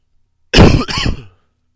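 One short, loud, harsh cough close to the mic, breaking into two rough bursts, with silence before and after.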